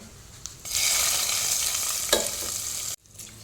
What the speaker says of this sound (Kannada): ಇನ್ನು ಇದಕ್ಕೆ ಒಂದು ಒಗ್ಗರಣೆಯನ್ನು ಇಡ್ತೇನೆ ನೋಡಿ ಒಗ್ಗರಣೆಗೆ ಎಣ್ಣೆ ಸಾಸಿವೆ ಕರಿಬೇವು ಬೆಳ್ಳುಳ್ಳಿಯನ್ನು ತಗೊಂಡಿದ್ದೇನೆ